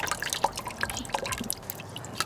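Water drips from recycled clay scraps hung on a stacking rack over a 5-gallon bucket, irregular close drops falling in quick succession.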